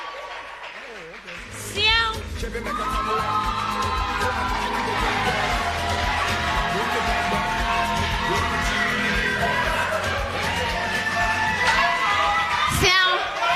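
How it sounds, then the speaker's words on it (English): A TV talent show audience claps and cheers for the next contestant, a steady wash of applause and whoops with a host speaking over it. "a round of applause for our next contestant"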